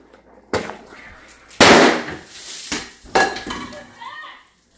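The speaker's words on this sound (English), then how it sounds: "Firecracker." A firecracker goes off indoors with sharp loud bangs and crackling pops that echo in the room, several bursts spread over a few seconds.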